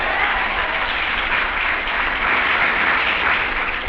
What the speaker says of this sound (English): I don't like the way you're clapping tonight